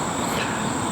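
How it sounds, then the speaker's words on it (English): Strange-sounding bugs chirp steadily outdoors among trees, a dense, continuous high-pitched insect drone filling the whole moment at an even level with no voices. "Strange sounding bugs out here."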